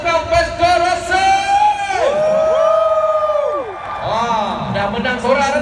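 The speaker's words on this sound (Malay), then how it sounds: "Kita dengar sorakan daripada penyokong Pesco Rasa." Supporters of the Pesco Rasa team cheer loudly as a crowd, with long whoops, yells and bellowed chants rising and falling over a steady roar.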